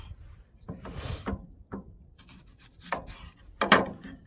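An onion is chopped on a wooden board in a home kitchen, a few scattered knife strikes and rubbing scrapes at an uneven pace, close and moderately loud, with no talking.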